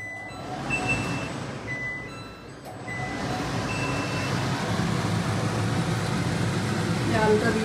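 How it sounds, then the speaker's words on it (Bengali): A kitchen chimney exhaust hood, switched on during home vegetarian cooking of potatoes and soybean, gives a steady broadband whooshing drone that rises and settles into a constant, fairly loud hum. "চিমনিটাকে একটু অন করে নেবো।"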